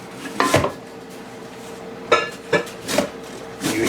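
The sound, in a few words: zucchini being shredded in the kitchen background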